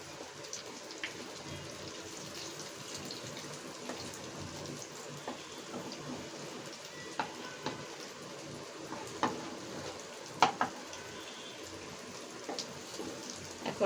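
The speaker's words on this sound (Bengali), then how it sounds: "এখন আমি উল্টিয়ে দিচ্ছি বড়াগুলো" Lentil fritters fry in hot oil with a soft, steady crackle, broken by a few sharp clicks and taps as they are turned over in the pan, with no talking.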